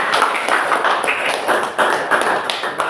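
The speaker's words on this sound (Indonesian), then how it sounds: "tepuk tangan dulu" Classroom applause with many hands clapping at once, a dense continuous patter with slight swells, close and fairly loud, no talking over it.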